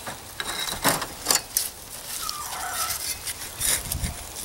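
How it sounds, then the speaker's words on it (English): Chickens in a permaculture garden cluck and call in the background, a steady scatter of brief squawks and gobble-like notes over outdoor ambience, with no one talking. "The chicken choir in the background."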